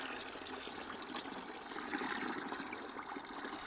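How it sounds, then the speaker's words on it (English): Water trickles and splashes steadily out of an old motorcycle's fuel tank, a continuous liquid pouring sound draining at close range with no talking. "It's an easy way to get the water out"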